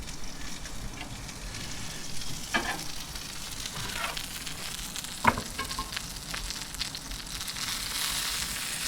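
A New York strip steak sears in an outdoor pizza oven, a steady sizzle with occasional sharp crackles and pops, moderately loud and close, with no voices over it.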